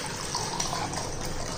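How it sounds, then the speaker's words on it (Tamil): Water is poured into a bowl in a home kitchen, a steady, soft, continuous splashing trickle with no talk. "இப்போ பக்கத்தில் ஒரு பவுலில் தண்ணி ஊற்றிக்கிடுவோம்."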